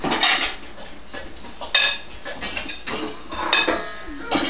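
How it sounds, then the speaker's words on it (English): Powdered soap, baking soda and borax being stirred together in a bowl for homemade laundry detergent, heard as steady scraping and clinking of a utensil against the bowl with a few sharper knocks, close up, with no talking. "We're just mixing in our baking soda, the borax"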